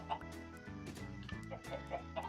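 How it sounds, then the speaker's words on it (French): Several video-game chickens clucking in a coop, overlapping short rhythmic clucks and squawks at moderate volume over a continuous background of game music. "Avec différentes poules."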